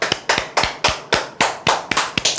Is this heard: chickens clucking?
no